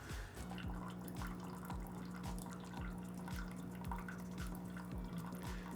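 A fully automatic coffee machine dispenses about 190 ml of hot water set to 90 Celsius, a faint steady trickle with a low pump hum and regular soft clicking pulses underneath.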